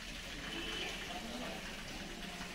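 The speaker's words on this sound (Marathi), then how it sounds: "हे जे पाणी पडताना दिसतं ते स्नानाचं आहे" Spring water falling from a bathing spout at a Himalayan temple, a steady, soft, continuous splashing gush heard from a little distance with a faint voice in the background.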